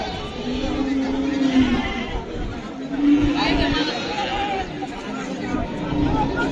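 Goats bleat in repeated wavering calls amid busy crowd chatter at a Qurbani cattle and goat market in Hazratpur, the bleats near and moderately loud over the hubbub, with someone talking throughout.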